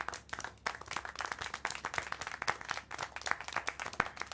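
Applause in the video game Syberia: The World Before, a burst of several hands clapping in quick, uneven rhythm, moderately near and sustained throughout.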